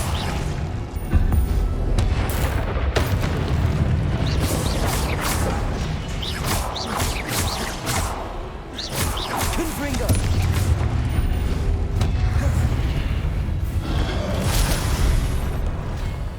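Repeated fiery blasting-spell explosions from the Hogwarts Legacy video game, booming and crashing one after another with whooshes and clatter throughout, loud and dense.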